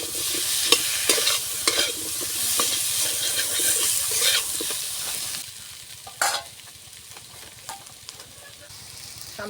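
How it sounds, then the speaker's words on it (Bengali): Ginger-cumin paste frying with yam in a metal pan, a steady close sizzle broken by repeated scraping stir strokes, quieter and sparser after the midpoint. "এবার ভালো করে মশলাগুলোকে কষিয়ে নেব মেটালের সাথে।"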